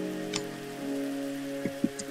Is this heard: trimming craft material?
no